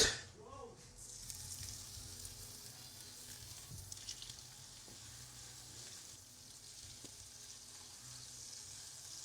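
Steak frying in cooking oil sizzles steadily in a pan, a continuous close hiss after an initial clatter, with faint occasional clinks and no talking.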